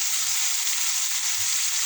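Onions, brinjal, chillies and tomatoes fry in hot oil for a sambar tempering, giving a steady, close sizzle throughout with a couple of soft low stirring bumps.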